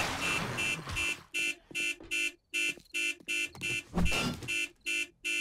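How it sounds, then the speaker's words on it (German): A car alarm in the zombie survival game 7 Days to Die blares in a rapid run of about a dozen evenly spaced electronic honks, loud and close over faint background noise. "Der Alarm ist losgegangen."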